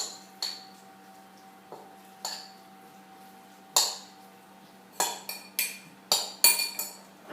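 Cheese and onion puff filling stirred in a bowl, heard as a run of sharp utensil clinks against the dish, sparse at first then quicker and closer together, with no talking.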